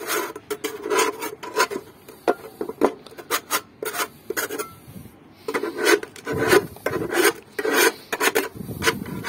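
Scrubbing on a portable chulenguito-style grill coated with grease and paint: rapid, close scraping strokes in uneven bursts with brief pauses, fairly loud.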